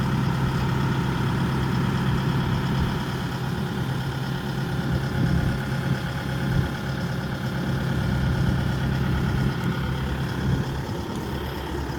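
A Sumitomo SH130 excavator engine idling: a steady, unbroken diesel rumble with an even low drone and no change in pace, heard close and alone.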